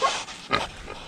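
Two short, faint squeals from a pig in the New Zealand bush after touching an electric fence, quick yelps about half a second apart and fairly distant.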